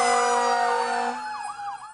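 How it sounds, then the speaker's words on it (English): Wailing fire truck sirens sound loudly and close in a drive-by birthday parade, overlapping tones sweeping up and down alongside a steady horn-like drone. "a sirens on drive-by for Raymond and his family"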